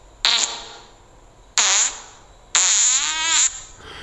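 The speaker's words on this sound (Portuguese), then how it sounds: "E repara bem que vem com eco." Three loud, close fart sounds of rising length, each with a reverberant echo trailing off, separated by brief silence.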